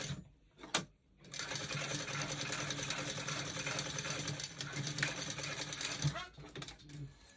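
A sewing machine top stitching a basic bodice runs steadily for about five seconds at close range, starting after a brief pause and stopping near the end, with faint voices in the background.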